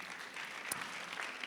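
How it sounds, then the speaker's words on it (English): An audience at a talk gives a speaker a dense, continuous round of applause, with many hands clapping steadily through a brief moment. "One more time, please, a round of applause for him."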